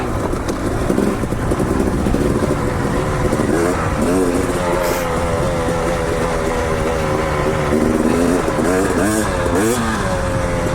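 A 250 XC dirt bike engine on technical off-road terrain drones loudly and continuously, its pitch rising and falling with throttle blips and revs, close to the rider.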